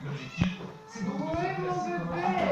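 A nearby house cat gives a few plaintive meows, the last one a long, drawn-out cry that rises and then falls.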